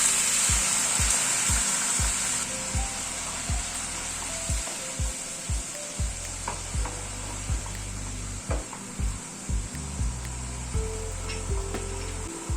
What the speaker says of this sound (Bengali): এবার গরম জল অ্যাড করে দিচ্ছি।